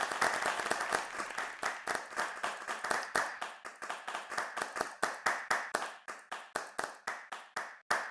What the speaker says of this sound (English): So I'd just like to give a round of applause for everybody who's been involved in the whole weekend